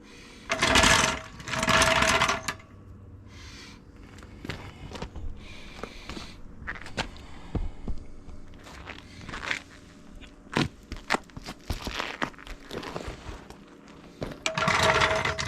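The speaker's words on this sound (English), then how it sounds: "I'm going to jack it up. I'm going to put the floor jack put it under that front axle" Floor jack pumped under a 20-year-old trailer's front axle, giving irregular metallic clicks and ratcheting strokes in bursts, with louder scraping bursts at the start and end, close by.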